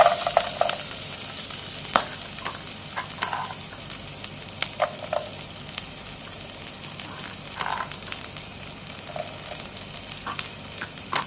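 Minced garlic frying in about two spoons of hot oil in a pan, a steady low sizzle with scattered sharp pops and the clack of stirring across the whole stretch.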